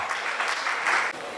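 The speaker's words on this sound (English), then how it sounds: "a big round of applause to Dr. Masina" Audience applause at a trade conclave panel session, a short steady burst of clapping from a seated crowd, fairly even and moderately loud throughout.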